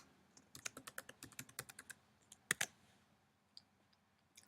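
Someone types on a computer keyboard with quick, close key clicks in an uneven burst, then a few slower taps trailing off, quiet with no talk.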